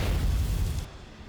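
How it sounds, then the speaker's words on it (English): A deep rumbling blast of artillery fire from the video game Goddess of Victory: Nikke, a broad boom that rolls on for about a second and then fades, heard alone without voices. "Well, there is a cacophony of noise as Snow White's gunfire melds with artillery fire from off in the distance."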